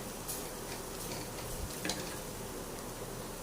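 Spice powder roasting in a hot pan for a chicken curry, giving a steady soft sizzle with light scraping and stirring throughout.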